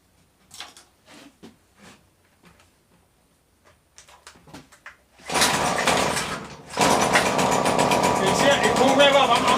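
A Stihl weed eater bogging at full throttle with the choke off: after someone speaks, the small two-stroke engine starts up loud and close, then holds a rough, strained drone, briefly dipping before steadying.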